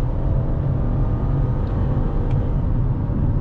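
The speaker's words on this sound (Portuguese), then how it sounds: "Que tem aquele ronco característico de motor 3 cilindros" A steady, loud 2023 Fiat Pulse Audace 1.0 turbo three-cylinder engine drone with a low, throbbing rumble, building slightly as the car pulls ahead on the highway, heard from inside the cabin.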